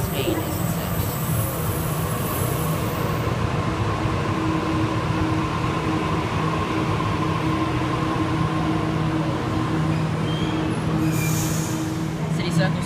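A Sydney train at Green Square station gives a steady, loud rumbling drone with a constant hum from onboard, recorded close inside the carriage and continuing unbroken throughout.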